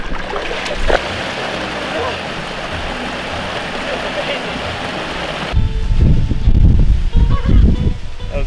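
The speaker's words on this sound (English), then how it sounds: "Nice little waterfall oasis up here." Broadband rushing water pours continuously, a waterfall heard up close, growing louder and heavier in the final seconds.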